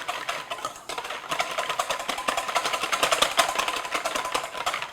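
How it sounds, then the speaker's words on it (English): Two large eggs whisked by hand in a bowl to break them up, giving a fast, steady run of close, light clicking and tapping strokes that continue throughout with no talking. "And I'm just whisking them to break them up."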